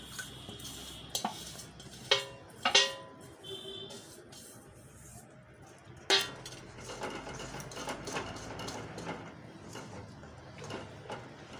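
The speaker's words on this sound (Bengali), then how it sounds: "একটু নাড়াচাড়া করে ঠান্ডা করছি" Cardamom-spiced semolina being stirred in a pan of sugar syrup to cool it, with a few sharp utensil scrapes and clinks near the start and a steady soft scraping throughout, no talking.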